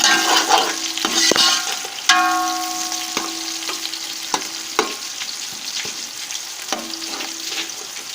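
Two chopped onions frying in hot ghee in a pot, giving a steady, loud sizzle. Close spoon clanks against the metal and stirring scrapes come through over it, with no one speaking.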